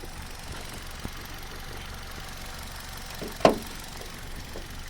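A 2008 Hyundai i10 Magna petrol hatchback idles with a steady, low, even engine hum, broken by one sharp tap about two-thirds of the way through.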